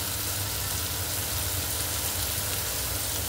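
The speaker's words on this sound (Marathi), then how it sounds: "आता टाकूया आपण कांदा. छान खरपूस भाजून घ्यायचं सर्व." Sliced onion frying in oil in a pan for bitter gourd curry, a dense continuous sizzle and crackle held close and steady, with no voices.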